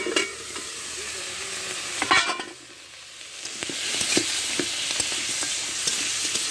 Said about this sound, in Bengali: লবণ আর হলুদ দিয়ে কাঁকড়াগুলো ভেজে নিলাম, ভালোভাবে কষিয়ে নেব।